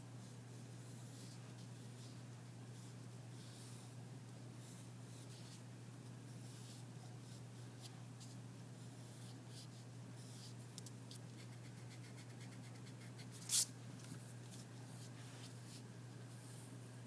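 Drawing a tree trunk and branches for a fall sunset silhouette, a steady soft scratchy rubbing of a drawing tool over paper under a constant low hum, with one brief sharper tick near the end.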